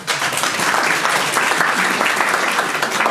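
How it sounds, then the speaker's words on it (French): Dense, continuous clapping from a crowd in a business school lecture hall during a back-to-school seminar, honouring the director, heard alone with no voices. "que je vous demande d'applaudir"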